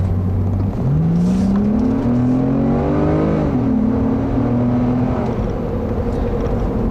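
A 2008 Acura TL sedan with a 3.2-liter V6 accelerating on a test drive, the engine note climbing steadily in pitch through the gears, loud and continuous from inside the car with no talking.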